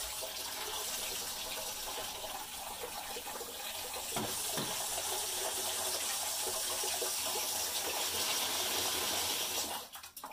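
Hot water runs steadily from a household tap, a constant hiss and splash at moderate distance that cuts off abruptly near the end.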